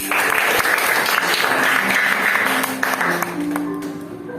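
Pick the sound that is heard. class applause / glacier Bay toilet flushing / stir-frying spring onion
class applause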